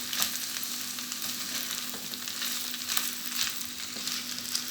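Potatoes sizzle steadily in hot oil in a pan while being stirred and tossed together, with a loud continuous frying hiss and occasional scraping knocks close up, no talk.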